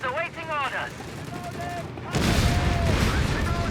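A tank and a Hellcat tank destroyer fire in a Company of Heroes 3 match; faint game audio with chirpy tones gives way midway to a sudden, louder burst of heavy gunfire and rumbling impacts that carries on to the end.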